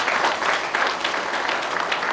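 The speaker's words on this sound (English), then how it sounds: "Let's give him a round of applause as well." Steady audience applause filling an award ceremony hall for state troopers, dense continuous clapping throughout at moderate loudness with no voices standing out.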